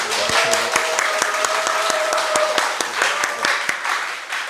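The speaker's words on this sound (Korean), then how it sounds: "우리 함께 환영의 박수 한번 주세요" Audience applause welcoming a guest onto a health talk show stage, a steady wash of clapping with sharp individual claps standing out, while a soft tonal hum runs beneath.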